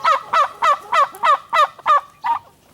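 Turkeys kept on a small Michigan farm gobble close by, eight quick rattling calls in a steady rhythm with short pauses between them and no talking.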